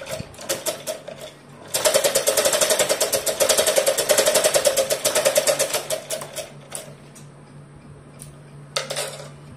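A sewing machine stitching a long frock made from an old saree: loud, rapid, steady mechanical chatter near at hand, in a sustained run of about five seconds, with shorter bursts before and after and no talking.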